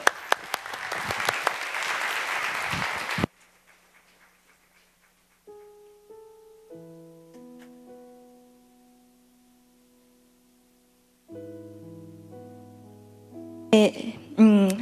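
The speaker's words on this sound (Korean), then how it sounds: "나올 때 뜨거운 박수로 환영 부탁드립니다." A crowd claps loudly for about three seconds at a church youth worship service, then the applause stops abruptly and soft sustained organ or keyboard tones follow.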